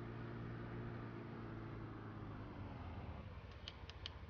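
A farm vehicle rolls across grass in Farming Simulator 17, giving a steady, fairly quiet low engine drone with a continuous rough rumble and no talk.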